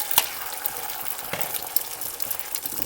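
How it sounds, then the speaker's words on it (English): Scrambled egg sizzles steadily in hot butter in a pan, a close continuous crackling fry with small pops and stirring scrapes. "Scrambled egg in there."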